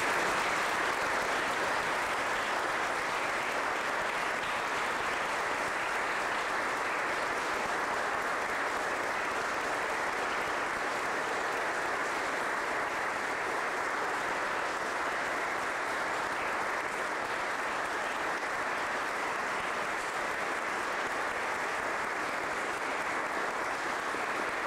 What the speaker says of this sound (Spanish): Démosle un aplauso a doña Queta,